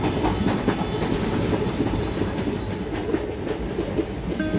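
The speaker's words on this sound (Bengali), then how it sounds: "এই মুহূর্তে আমাদের ট্রেন ছেড়ে দিল টুনলা জংশন থেকে" Swatantra Senani Express pulling out of Tundla Junction, heard from inside a general-class coach: a dense, continuous rumble with steady clattering wheel beats on the rails, loud and unbroken.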